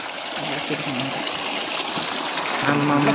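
Water flows at the Bhulbhule Dudhkunda pond in Khotang, Nepal, a steady rushing trickle close by, with a voice speaking over it near the end.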